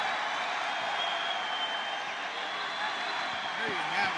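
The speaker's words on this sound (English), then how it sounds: "And listen to the crowd." At a men's freestyle 66 kg wrestling bout between Jordan Oliver of the USA and Magomed Kurbanaliev of Russia, an arena crowd roars and applauds in a steady, broad wash just after a 7-6 win, with a commentator's voice over it.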